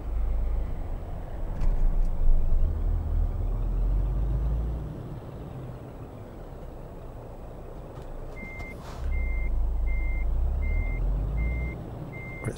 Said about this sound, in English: Sounds like a normal truck.